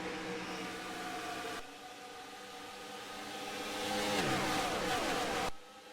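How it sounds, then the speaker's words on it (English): Race cars roaring past in a racing sim video game set at Auto Club, heard as loud, layered engine drones that swell and shift pitch as they pass, then cut off sharply. "Cars roaring past as Boston Jones slipped from second to fourt"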